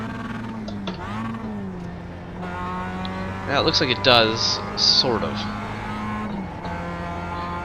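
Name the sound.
Mazda MX-5 race car driving in iRacing video game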